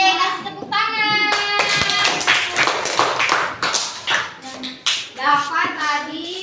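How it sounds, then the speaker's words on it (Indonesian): A fourth-grade class claps together in a classroom, a burst of hand claps and taps lasting a few seconds, with children's voices and chatter mixed in. "Yeay, kasih tepuk tangan."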